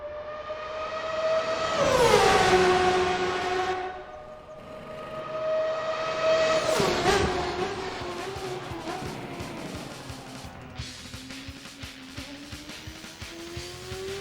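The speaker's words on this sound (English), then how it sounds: "the sound bank encapsulates the unique qualities of the engine" A high-revving 1999 open-wheel Formula race car engine screams past, pitch climbing and dropping as it shifts gears, then settles into a steady whining drone.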